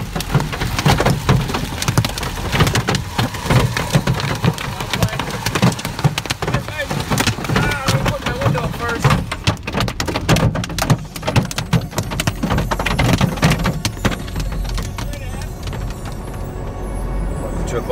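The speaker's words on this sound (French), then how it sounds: "D'ailleurs, pendant qu'on s'applique à devancer le rideau de grêle, Reed Timmer" Dense, steady pattering of hail hammers a surface during a Tornado Alley storm chase, a continuous loud rattling roar lasting the whole stretch.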